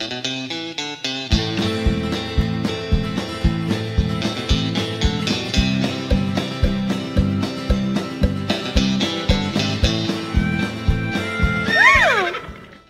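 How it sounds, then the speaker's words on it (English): A horse gives a short whinny near the end of a cheerful, bouncy music track for a children's learning show about the desert, the neigh rising briefly over the rhythmic accompaniment. "Cowboys ride horses in the desert."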